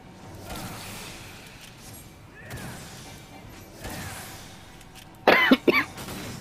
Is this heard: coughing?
yes